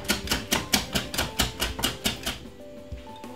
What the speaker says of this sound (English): just give it a nice lovely whisk like this